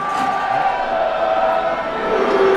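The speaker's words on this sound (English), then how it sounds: "Crowd are enjoying it." A stadium crowd at a soccer match keeps up a steady sustained cheer and chant, a broad continuous roar with no breaks.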